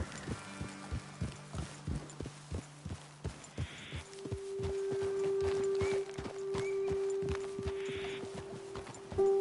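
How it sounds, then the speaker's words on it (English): Horses walking in the video game Red Dead Redemption 2; a steady, even clip-clop of hooves on a road, close and moderately loud, alone over a low in-game hum with no talk. "Best leave the horses back a bit."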